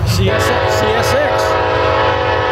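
A Norfolk Southern heritage locomotive, unit #1067 in Reading Lines colors, passes at Manassas, Virginia, blowing a loud multi-tone horn in a sustained chord over heavy rumbling rail noise, with bending pitch near the middle and people talking nearby.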